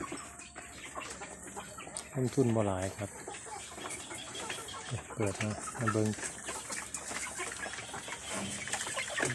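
Chickens cluck and call nearby in short bursts while someone speaks over them, with a busy outdoor background.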